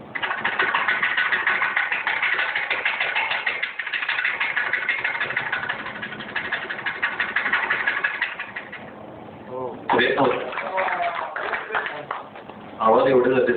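A beatboxer imitates a helicopter with his voice, producing a long steady buzzing rotor-like drone that fades, then resumes in short bursts, with brief talk between.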